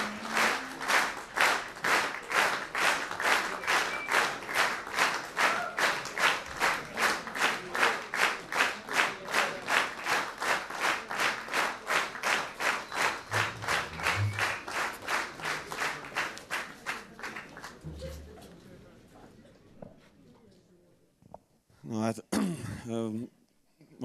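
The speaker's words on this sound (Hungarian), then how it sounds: "megérdemlik a tapsot" Audience at a Galga region folk musicians' New Year concert claps in a steady rhythmic beat for about eighteen seconds, loud and even, then fades out into someone talking.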